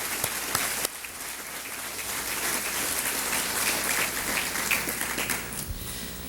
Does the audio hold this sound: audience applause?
yes